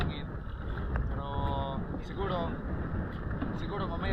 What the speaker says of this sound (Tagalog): medyo malakas ng alon na yon at saka yung hangin